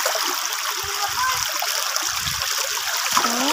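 A small trickle of water runs and splatters steadily nearby outdoors, with a soft continuous patter and a few low gurgles.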